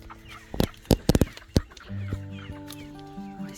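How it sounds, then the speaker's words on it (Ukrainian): Plump, short-legged hens in a backyard flock give a quick run of sharp, close clucks, then settle into a lower, steadier murmuring cluck with a drawn-out tonal call, near and fairly loud. "Бачимо бачите, яка курочка, короткі ніжки."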